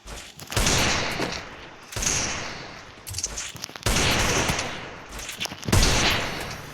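Gunfire in the video game Free Fire comes in five loud, rapid automatic bursts separated by brief pauses, with no speech.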